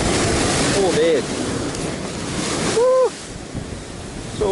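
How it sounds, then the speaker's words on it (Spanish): Heavy ocean surf surges and crashes against a rocky shoreline where sea bream are fished in rough water, a constant roar of churning foam with wind buffeting the microphone and men exclaiming over it. "Vaya oleaje."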